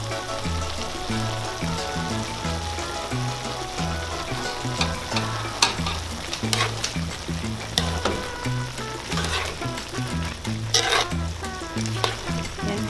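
Paklay sizzles loudly in a pan as lemongrass and ground pepper are added and stirred in, with continuous frying crackle and periodic scraping strokes, close and steady throughout.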